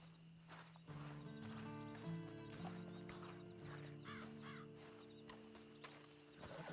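Horse hooves in Red Dead Redemption 2 Online clip-clop steadily at a walking pace, joined by a whinny, over a low droning musical background.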